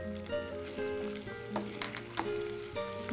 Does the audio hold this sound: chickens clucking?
no